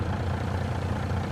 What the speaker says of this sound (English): I hear the truck engine now.